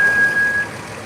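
A bus passes nearby as a steady, loud rumbling road and engine wash, with a thin high tonal beep in the first half and no talking.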